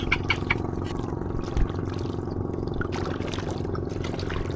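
Mineral water pours in a steady, noisy stream outdoors by the sea, with a constant wash of water and wind behind it and no talking.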